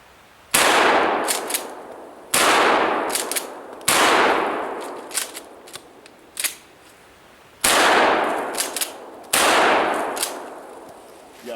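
A Mossberg 500 12 gauge pump shotgun firing magnum buckshot outdoors, five loud, sharp blasts spaced a couple of seconds apart, each with a long decaying echo and pump-action clacks between shots.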